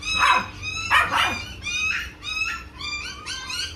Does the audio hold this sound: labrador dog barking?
yes